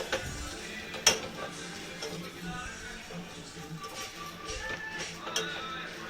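Egg fried rice being stirred in a pan, with soft scraping and a few sharp metallic clinks of a utensil against the pan, close and moderately quiet, no one speaking.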